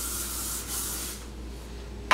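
Hissing spray from a can of hair spray in bursts close by, ending with a brief sharp sound.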